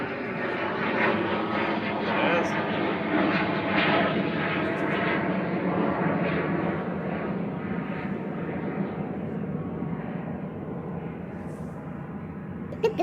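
A small Hawker 750 business jet takes off at Manchester Airport, its engine roar loud and sustained before gradually fading as it climbs away, with faint voices briefly audible.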